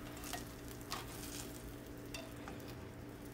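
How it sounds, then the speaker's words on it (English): A spatula scraping under a grilled cheese and ham sandwich in a sizzling pan, a few soft scrapes and taps over a constant quiet fry. "Now we're going to take our spatula and just flip it over."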